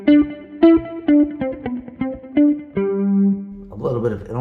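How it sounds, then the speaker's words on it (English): Clean electric guitar notes through a short-time ping pong delay on a Quad Cortex, each picked note trailed by quick short echoes that blur into a roomy shimmer, ending on a held note before a noisier strum. "he's got a ping pong delay with like a very small delay time."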